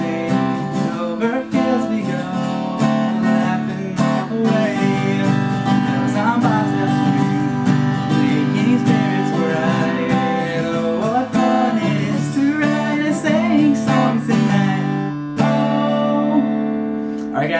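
A guitar strums the Jingle Bells verse chords in a steady rhythm for several bars, rich and close, with a voice running along with the playing.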